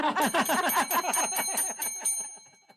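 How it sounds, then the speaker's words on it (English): A bright bell rings in rapid repeated strikes, a fast metallic trill that tapers off toward the end. "That was a reluctant bell."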